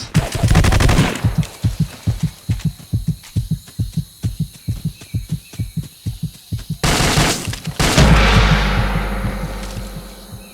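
Soviet-made guns fire in the video game Vietcong: a rapid, loud burst of automatic shots in an even rhythm, then heavier booming blasts that ring out and fade toward the end, no speech.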